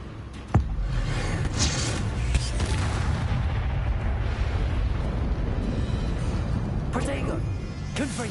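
A Confringo fire spell explodes in the video game Hogwarts Legacy, a sharp blast followed by a sustained roaring rumble of game combat noise, with further impacts near the end.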